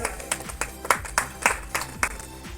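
Applause at a foundation's anniversary ceremony, with several distinct, fairly strong clap bursts at a loose, uneven rhythm, about one every half second, over a soft background of scattered hands.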